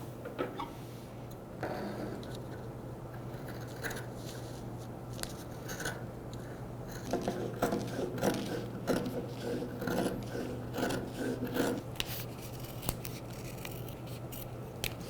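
Scissors snip through fabric closely along a sewing pattern while making a simple bib, a steady run of small crisp clicks and cuts over a low constant hum, close and fairly quiet with no talking.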